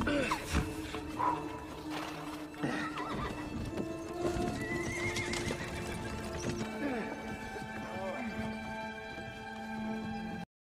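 Steady clip-clop of hooves from a horse-drawn cart moving into hilly country, with creaking and a whinny, fairly close and continuous throughout.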